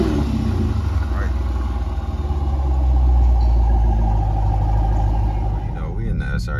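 Jeep Grand Cherokee SRT8 with aftermarket exhaust and muffler delete idling, a deep continuous low rumble held steady throughout, with someone talking over it.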